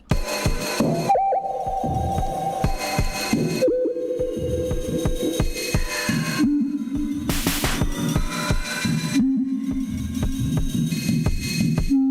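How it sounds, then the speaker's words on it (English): An OP-XY synthesizer's ladder filter with resonance cranked high sings in loud, sustained whistling and droning tones that glide and step between pitches, with bursts of buzzy throbbing and no speech. "all that is just the ladder filter's resonance being turned way up"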